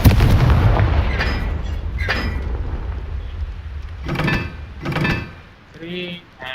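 Confringo fire spell blasts in the Hogwarts Legacy video game: a rumbling background gives way to two sharp, booming bursts a second apart, followed by a short ringing chime.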